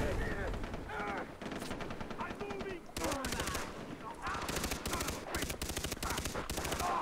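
Shotgun blasts and other gunfire in Far Cry 3 ring out in rapid repeated bursts, loud and close, mixed with game noise and occasional talking.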